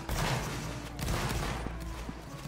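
Muskets fire in a crackling volley during a Napoleonic Wars battle in the Roblox game. The rippling shots are fairly faint and distant, spread across a couple of seconds.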